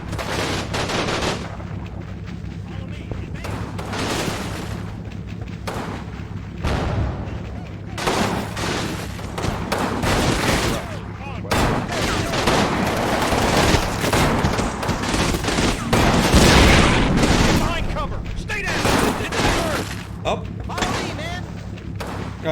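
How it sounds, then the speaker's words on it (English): Repeated bursts of German MG42 machine-gun fire rattle through a Normandy battle in the PC war game Combat Mission Normandy at Abbaye d'Authie, loud and rapid with short gaps and heavier thumps, as someone talks throughout. "They got machine guns. Yeah, they got like MG42s set up."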